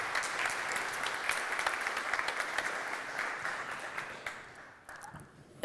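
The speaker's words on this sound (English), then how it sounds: "A round of applause for our new board." An audience at an AmCham Finland business event applauds its newly introduced board of directors, a dense, steady round of clapping that gradually thins and fades toward the end.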